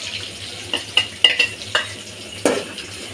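Onions going into a pan of hot oil with dried chillies, ready for tempering potatoes and lentils; a steady sizzle runs under a series of sharp spoon scrapes and clinks against the pan, close and fairly loud, with no talking.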